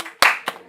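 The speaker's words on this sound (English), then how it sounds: "Can we get a round of applause for these wise young people?" Audience applause breaks out at a senior interview event, a few brief sharp claps, close and short-lived.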